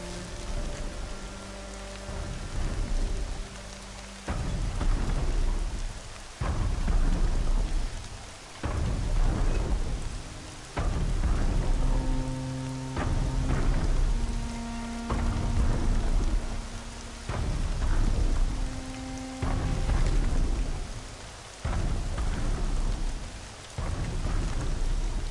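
Rain and rolling thunder in the video game Horizon Zero Dawn, a steady loud downpour with repeated heavy rumbles and bursts of game music or effects layered over it, no voices.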